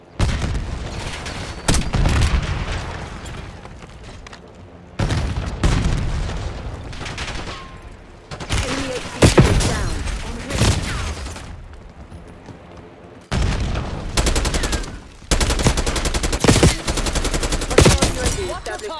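Heavy gunfire from Black Ops 6 comes in loud bursts of rapid automatic fire and booming shots separated by short lulls, with game voice callouts in places.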